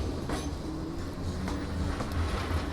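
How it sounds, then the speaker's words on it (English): A tram rumbles past close by on Blackpool seafront, a steady low roar with faint rhythmic clatter and brief metallic hiss, no voices. "Here comes the tram."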